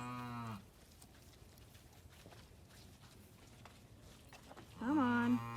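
An old milk cow moos nearby, one long low call at the start and another rising bellow at the end, with quiet farmyard background between.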